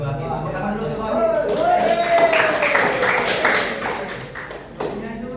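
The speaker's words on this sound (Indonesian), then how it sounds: "Tepuk tangan dulu untuk Wahid." A classroom audience claps for a student during a micro-teaching lesson, a short burst of scattered hand claps with talking heard over and around it.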